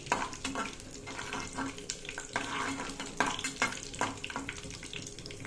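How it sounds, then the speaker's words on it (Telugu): Tempering spices hit heated cooking oil in a pan, crackling and sizzling steadily while a utensil stirs with scraping clinks, close and busy throughout. "తాలింపు దినుసులు మామూలుగా వేసేసుకుంటాం కదా"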